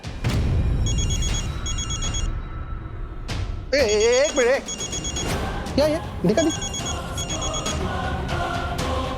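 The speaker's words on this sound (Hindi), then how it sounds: "अरे किसी का फोन बज रहा है" A phone rings in repeated electronic bursts over a few seconds while people talk over it.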